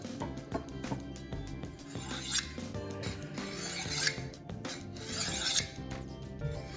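Kitchen knife pulled from heel to tip through a handheld sharpener at about a 30-degree angle, three or four short rasping strokes, close and fairly quiet against faint background music.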